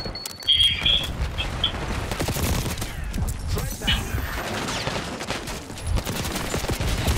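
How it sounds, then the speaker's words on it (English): Black Ops 6 multiplayer gunfire, rapid overlapping automatic bursts and shots, some near and some distant, sustained across a busy firefight with game audio underneath. "HBT is taking fire."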